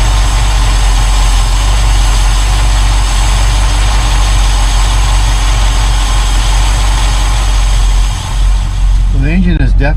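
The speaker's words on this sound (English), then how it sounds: "So the engine is definitely warmed up." A warmed-up 1972 Mercedes-Benz 280SE 4.5 engine idles steadily and loudly up close, a constant low rumble throughout, with a brief voice near the end.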